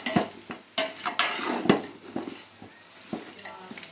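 Country chicken curry being stirred in a pan, with a ladle scraping and knocking against the metal in irregular close strokes over a soft sizzle.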